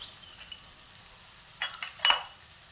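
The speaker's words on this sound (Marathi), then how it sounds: "कांदा चांगला परततोय." Onion sautéing in a pan over the stove gives a faint, steady sizzle, broken by two short scraping stir strokes near the end.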